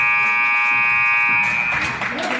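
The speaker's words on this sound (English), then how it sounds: "5 seconds to play. Oh, stolen by Luckman at the buzzer." Loud, steady electronic buzzer sounding the end of a girls' high school playoff basketball game, holding for about a second and a half before gym crowd noise and commentary rise over it.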